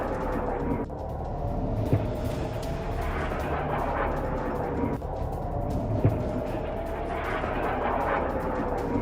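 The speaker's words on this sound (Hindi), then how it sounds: "गाजा पट्टी से दागे गए कई रॉकेट्स, ये देखिए जरा।" Rockets fired from the Gaza Strip in news footage: a continuous distant roar and rumble with a few sharp thuds and booms scattered through it, fairly faint and steady.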